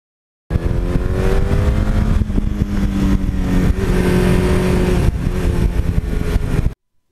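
An 80s Suzuki GS1100E motorcycle with 78,000 miles runs steadily on the road, a loud continuous engine drone with a slight rise and fall in pitch for several seconds before cutting off abruptly.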